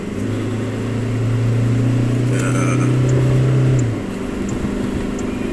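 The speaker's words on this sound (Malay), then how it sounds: "So the 500 Newton meter yang dihasilkan oleh enjin ni, dia tak datang like in a very violent way lah." A Toyota Hilux Rogue pickup engine pulls under acceleration with a steady, smooth drone that holds for about four seconds and then eases off, heard from inside the cabin.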